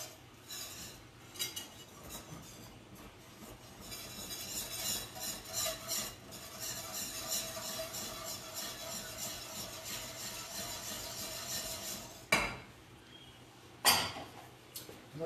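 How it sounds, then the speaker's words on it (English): Crepe batter being stirred and the roux scraped up from the bottom of a pan, with steady clinking and scraping of a utensil against the pan running throughout, plus a couple of sharper knocks near the end. "We're just going to keep on mixing, making sure we're getting the lumps out, scraping up all the roux from the bottom of the pan"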